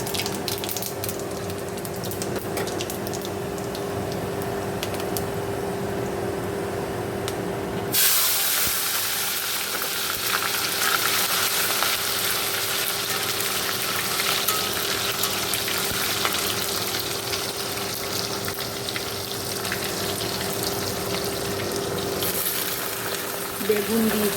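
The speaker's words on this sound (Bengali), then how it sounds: "5 ফোড়ন শুকনো লঙ্কা দেবো।" Panch phoron and dried red chilies hit hot oil in a kadai, a bright steady sizzle that bursts in suddenly after a quieter start and keeps hissing evenly close by.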